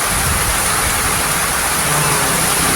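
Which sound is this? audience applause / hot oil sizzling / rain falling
rain falling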